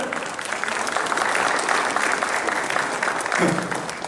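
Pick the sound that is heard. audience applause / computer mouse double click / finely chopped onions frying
audience applause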